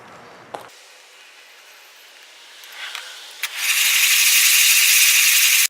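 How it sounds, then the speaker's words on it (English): Old gasket material being scraped off an AMC engine part during an oil pump rebuild: a brief knock, then faint scraping that builds into a steady, loud, hissing grind over the final two seconds, with no voices. "It is taking most of the old gasket material off, so that's good."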